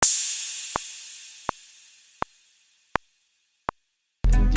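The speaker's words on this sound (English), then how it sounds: "And then you also need a cymbal." A crash cymbal rings out once and decays long, with sharp, evenly spaced drum-machine clicks every beat on top, clean and close, before a louder burst cuts in at the end.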